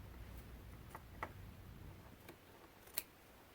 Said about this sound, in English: I like to just go ahead and trim this little tail right off